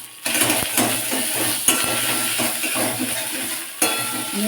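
Spices and grated ginger stirred in a little mustard oil in a wok, a low sizzle under a few light metallic scrapes and clinks of the spoon against the pan, close and brief.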